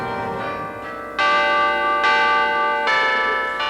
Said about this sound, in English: The carillon bells rang out here this afternoon, and there was a moment of silence.